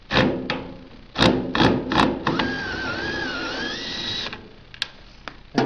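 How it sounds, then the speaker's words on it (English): A special tool backs two bolts out of an aircraft flap bracket during a Grumman flap rub strip replacement, giving sharp metallic clicks and knocks and then a steady mechanical whine of a few seconds. "here we are getting ready to take out these two bolts using a special tool"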